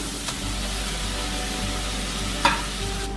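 Chopped onions sautéing in a pan, a steady low sizzle and frying hiss with soft stirring scrapes and one brief utensil clink near the end.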